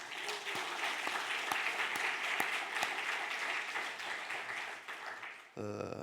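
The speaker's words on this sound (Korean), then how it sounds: "오늘 아침에 다음 세대들 우리 꼬마 친구들이 몇 명이 왔는데 우리 박수로 격려하십시다" A church congregation applauds children, dense clapping from many people filling the room for about five seconds before it stops abruptly and a brief tone follows.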